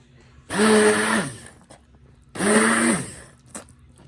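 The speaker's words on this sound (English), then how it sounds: "I'm going to quickly blend it together using this hand blender" Two short bursts of a whirring hand blender blending cooked greens, each lasting about a second, with a steady hum and a brief pause between them.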